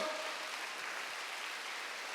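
A congregation applauding during a Wednesday evening worship service at a Korean church: faint, steady clapping with a soft, rain-like texture that continues evenly throughout, with no voices.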